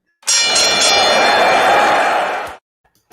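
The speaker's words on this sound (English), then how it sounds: "I'm going to ring the bell and we'll get started." A bell rung to open a daily wrestling news show gives one loud, continuous ring of about two seconds with bright metallic overtones, then stops abruptly, with no talk over it.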